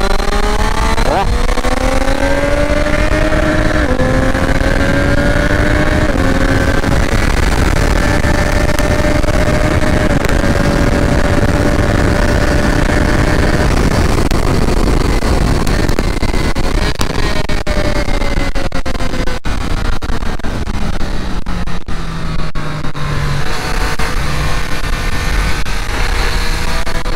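A Triumph Street Triple 765 RS three-cylinder motorcycle at Interlagos circuit roars continuously and loud, revving up through several gear changes with rising and falling pitch while a rider talks over it.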